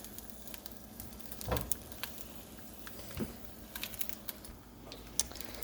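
Tomato and tomatillo sizzle faintly in a pan as a steady, soft crackle with scattered small pops and spits, quiet and close, with no talking.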